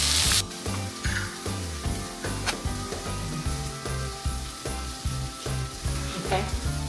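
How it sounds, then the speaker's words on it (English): Brussels sprouts dressed with ginger sesame dressing sizzle steadily in a hot pan, a continuous close frying hiss with occasional stirring scrapes and knocks, no voices. "So I added the ginger sesame dressing onto it so that it can cook into the Brussels sprouts, giving it more flavor."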